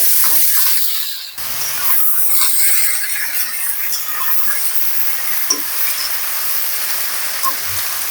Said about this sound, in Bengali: আলুটা কয়েক মিনিট ভাজবো। এবার এর মধ্যে বরবটিগুলো দিয়ে দিব।